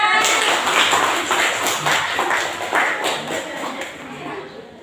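A classroom of students clapping hands together, a loud burst of many overlapping claps that gradually thins and fades over a few seconds.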